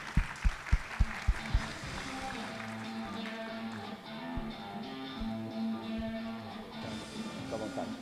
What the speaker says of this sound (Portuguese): Flávia, por favor, salva de palmas.